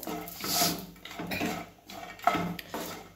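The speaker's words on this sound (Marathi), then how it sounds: "गॅसवर ठेवलाय पॅन गरम झालाय, त्यात टाकूया खोबरं। बारीक करून घेतलेलं खोबरं भाजूया।" Grated coconut roasting in a hot pan on a gas stove, heard as scraping and clinking of a utensil stirring against the pan, close and fairly loud, with no voice.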